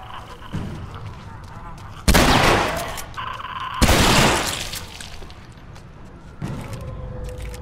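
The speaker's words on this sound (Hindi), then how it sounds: "ओ भाई गोली चल गई" Two loud gunshots ring out in The Last of Us Remastered, each a sharp close blast with a decaying tail about two seconds apart, over quieter game sounds and a later thud.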